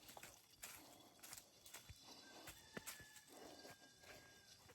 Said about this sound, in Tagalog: nililipat na nila ang baboy